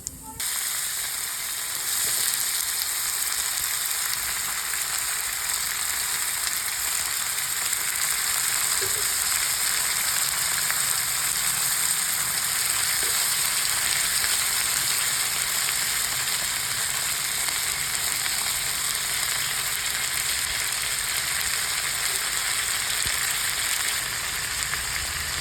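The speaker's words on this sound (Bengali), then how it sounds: "আর একটুখানি জিরে ফোড়ন দিয়ে দিলাম তেলে।" Cumin seeds sizzle in hot oil as a steady, dense frying hiss that runs unbroken at close range, with no talk over it.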